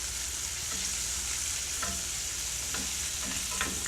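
Oysters fry in a hot cast iron skillet with a steady, close sizzle that runs throughout, broken by a few soft stirring scrapes and clicks; nobody speaks.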